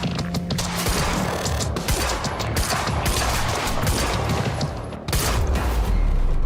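Rapid gunfire rattles through a firefight in the video game Quantum Break, with dense, continuous bursts of shots, some close and loud and others overlapping, and a sharper volley near the end.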